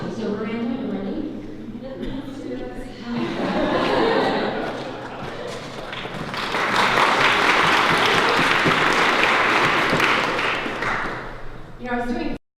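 Community guests at a wedding ceremony break into applause, a broad steady wash of many hands clapping that swells in the middle, with voices talking and cheering mixed in before and after.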